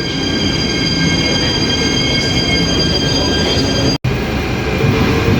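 Airport train running on rails, a steady loud rumble with wheel squeal tones throughout and a brief dropout near the end, no talking.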